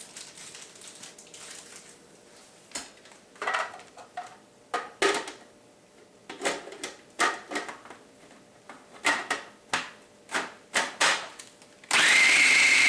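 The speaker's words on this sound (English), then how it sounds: "So now we are going to put the ding-dongs in the blender to mush them and turn them into a chocolate fudgy surprise." A kitchen blender whirs in about a dozen short pulses while mushing Ding Dong chocolate snack cakes, then runs in one loud continuous burst at the end; the pulses are moderately loud over a quiet room.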